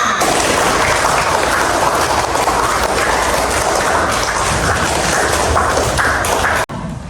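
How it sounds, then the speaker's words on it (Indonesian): Classroom applause, a loud dense burst of clapping from many students that holds steady for several seconds, then cuts off abruptly near the end. "Tepuk tangan untuk semuanya."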